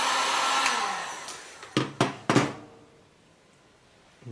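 Heat gun warming car wrap vinyl on a small part: a steady close blowing hiss that cuts off, followed by three sharp knocks, then quiet, with no voices.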